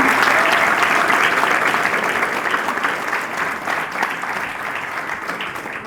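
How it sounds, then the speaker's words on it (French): Sustained applause from a crowd at a political rally in Chambéry, dense steady clapping that carries through the whole stretch and eases slightly toward the end. "On peut l'applaudir encore."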